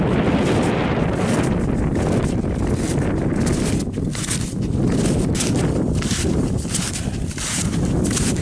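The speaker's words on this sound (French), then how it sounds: "Le vent, il est plutôt glacé," Icy winter wind at about 2000 metres in the Mercantour mountains buffets the microphone with loud, continuous rumbling gusts, steady throughout with no voices.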